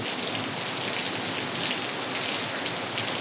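Heavy rain pours steadily in a dark downpour, a dense, loud, even hiss of drops on surfaces with no voices.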